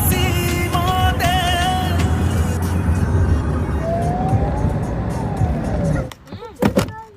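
A car driving along a road, with steady engine and road noise throughout, a passing siren-like tone partway, and then a few louder bumps and rattles near the end.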